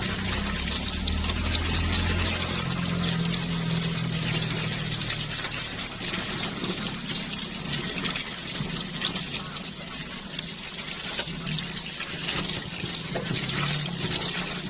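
Tap water runs steadily and fairly loud from a faucet onto mushrooms being washed in a Thai home kitchen, a continuous splashing wash that lasts throughout with faint voices in the background.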